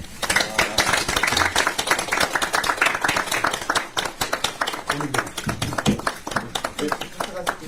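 Applause and clapping welcome a lawmaker at a Reform Party supreme council meeting, dense sharp claps running steadily for several seconds close by while voices talk over them.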